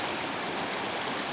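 Flood water rushes through a village in a steady, loud, continuous roar, like a torrent heard up close, with no voices over it.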